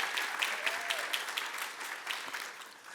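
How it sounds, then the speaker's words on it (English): An audience applauds Rachel at a George Mason University event with a speaker, a steady dense clapping from a crowd lasting the whole moment, moderately loud and uninterrupted. "Please give Rachel a round of applause."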